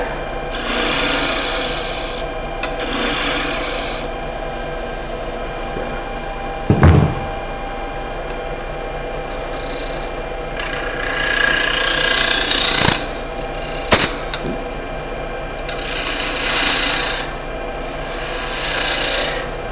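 A wooden birdhouse ornament spins on a lathe as it is turned, giving a steady close rasping hiss with swelling scraping passages and a couple of sharp knocks along the way.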